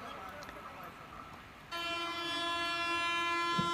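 New aerodynamic locomotive on a railway track in India, with a rumbling rolling train that gives way to a loud, sustained multi-tone horn blast holding steady to the end.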